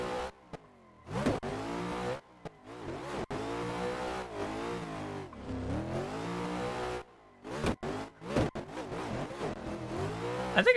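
A car engine in Assetto Corsa revs hard and falls off through a gymkhana run, with repeated loud rising and falling sweeps, short abrupt cutoffs between bursts and occasional tire noise, heard close and without speech.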